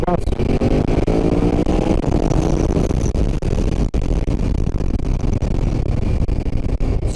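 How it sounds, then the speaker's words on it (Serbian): BMW F900 XR 2021 motorcycle engine revving up loud and close, with a dense steady roar and rising tones throughout, and no break in the noise. "Sad ćemo da dodamo gas."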